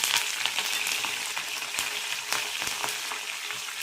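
Chopped ginger and curry leaves frying in hot oil, a bright, crackling sizzle with frequent pops, close and steady for the whole stretch, no talking.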